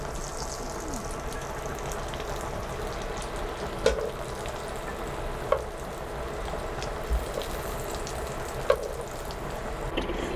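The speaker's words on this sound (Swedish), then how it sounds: "Löken och schalottenlöken har nu stått och svettat av sig i smöret." Onion and shallot sizzle gently in butter in a pan, a steady close frying crackle with a few sharp clinks of a utensil against the pan, and no talking.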